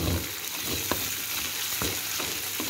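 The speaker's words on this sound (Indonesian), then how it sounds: "Jadi ini bumbu kita goreng, kita tumis dengan" Spice paste for pindang patin fish fries in hot oil with a loud, steady sizzle, broken by soft scraping strokes as it is stirred.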